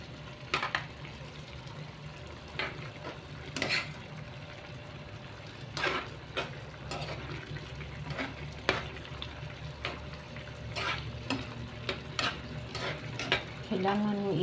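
Squid adobo simmering in a covered pan with a little water, giving a steady low bubbling sizzle with scattered sharp clicks and clatters of a lid or utensil, no voices.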